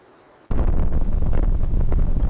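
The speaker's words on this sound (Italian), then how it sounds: "il vento" After a quiet start, strong wind suddenly gusts and roars across the microphone, rumbling and buffeting continuously.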